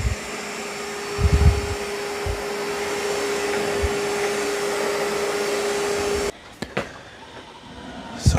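NARWAL Freo Z Ultra robot vacuum and mop running nearby with a steady whirring motor hum and a constant tone, a few brief bumps, then it cuts off abruptly near the end, leaving a quieter room with faint knocks.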